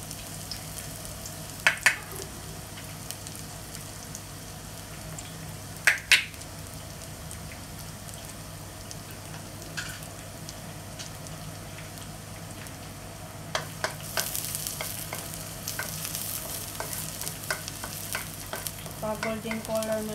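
Sliced garlic sizzles quietly in a pan for sweet and sour fish, a soft steady frying hiss with a few sharp utensil clicks and a louder burst of spattering near the end.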